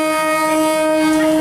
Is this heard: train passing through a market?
yes